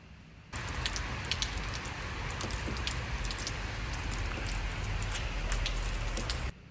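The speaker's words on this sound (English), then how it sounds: "Another reason why I mentioned the rain is because we are in a tin can." Steady rain drums on the metal roof of a Ford Raptor, heard from inside, a dense hiss dotted with sharp drop pings, starting and stopping abruptly.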